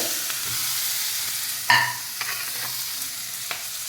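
Onions, tomatoes, garlic and cumin fry in oil over a low flame for eggplant chutney: a steady, close sizzle broken by a few sharp clinks of stirring.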